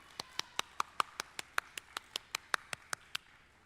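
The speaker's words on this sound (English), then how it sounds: "Let's give a big round of applause" A lone pair of hands claps at an awards reception honoring the New Member of the Year, about eighteen sharp, evenly spaced claps, fairly close and moderately loud with no voices.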